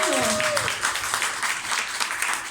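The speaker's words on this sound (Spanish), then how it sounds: "Un fuerte aplauso." Audience applause at a commemorative poetry event in Panama, steady dense clapping from a crowd filling the whole clip, with a brief tonal voice-like sound near the start.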